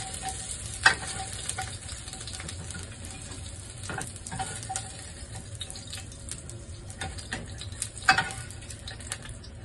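Fish cakes fry in a pan with a steady, even sizzle, punctuated by a few sharper spatters and scraping stirs, close and moderately loud, with no voices.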